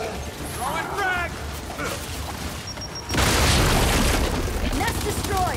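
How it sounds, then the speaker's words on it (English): A frag grenade blasts apart an enemy nest in Gears 5, a sudden loud broadband boom about halfway through that lingers as a dense rumbling roar over busy game sounds and chirps. "Throwing frag!"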